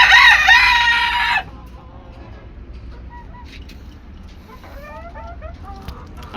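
Desi chickens cluck and call on a small backyard farm. A loud, harsh burst of calling opens, then softer, scattered clucks and chirps continue at moderate distance with no talk.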